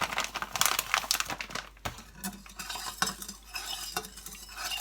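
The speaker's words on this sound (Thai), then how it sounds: "คนไปให้หม้อเดือด" A spoon stirs pickled fiddlehead fern mixture in a pot, with close scraping and clinking strokes repeating irregularly over a few seconds and no voices.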